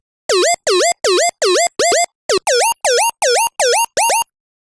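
A whip/woop synth lead with its pitch swept by an LFO plays eleven short, bright, repeated notes, each bending upward like a siren yelp, loud and dry with clean gaps between them.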